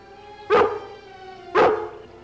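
A dog barks twice, about a second apart, each bark sharp and loud against a faint steady background, set in a wooded outdoor scene, with no one speaking.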